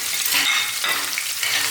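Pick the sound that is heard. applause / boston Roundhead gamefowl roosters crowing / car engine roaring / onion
onion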